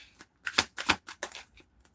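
Tarot cards shuffled by hand during a reading, heard as a few quick, crisp riffling bursts separated by short pauses, close and fairly loud with no talking.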